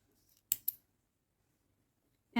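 Two quick, crisp snips of scissors cutting black yarn strands, close and alone in an otherwise quiet space, followed by a brief louder burst at the end.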